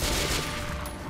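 Incendiary ammunition fired in the video game Metro 2033 Redux: a loud, dense, sustained burst of rapid gunfire that blurs into a continuous crackling roar with no clear gaps.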